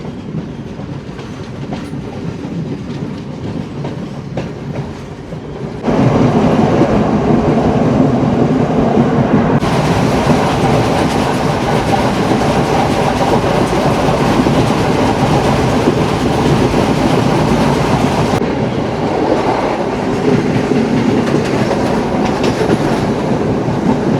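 A passenger train runs steadily along the rails on a scenic coastal Sri Lankan route, with continuous wheel rumble and clickety-clack that grows louder and broader after a few seconds and stays dense throughout.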